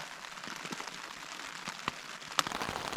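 Heavy rain drumming on a Big Agnes Tiger Wall UL2 ultralight hiking tent, a dense patter of drops with scattered sharper taps on the fabric, steady and fairly quiet, heard from inside without talk.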